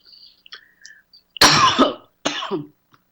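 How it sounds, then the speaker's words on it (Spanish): Two harsh coughs, the first longer and louder, close up, after a few faint background chirps. "es que ya hoy me dio esta tos increíble"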